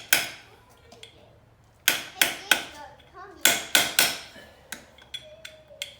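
Sharp metallic taps from a ratchet used as a hammer on a Yamaha Banshee cover strike in irregular bursts, some doubled in quick succession, ringing briefly, with quiet background noise between hits.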